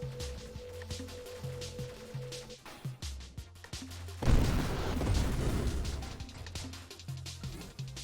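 Enemies in Nova Drift fire spikes in a dense run of sharp game shots and bursts, ending in a loud noisy blast midway through, with synth music running beneath.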